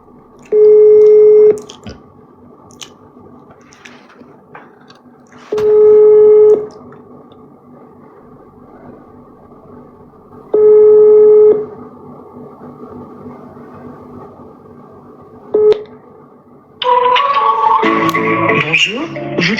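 An outgoing phone call on a French network ringing before an SFR voicemail picks up: three long, loud electronic ring tones spaced about five seconds apart, then a brief blip and a burst of distorted sound at the end.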